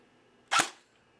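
A single sharp pop of an airsoft rifle fitted with an outdoor spring, firing a .25 BB through a chronograph outdoors, heard close and alone in near silence.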